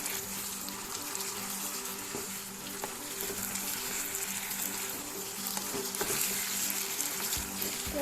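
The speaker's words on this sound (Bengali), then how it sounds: "কষতে হবে মাছটা একটু ভালো করে।" Fish sizzles steadily in a hot pan while being sautéed, a dense, even crackle of frying that carries on without a break, close up and with no talking.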